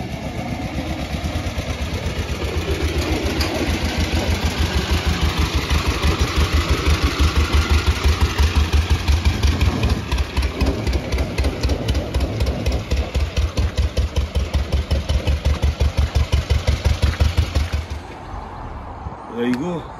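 A 1907 Darracq AX vintage car engine runs loudly on a test drive, its rapid, even chugging firing pulses building and holding steady before cutting off near the end, with a voice faintly underneath.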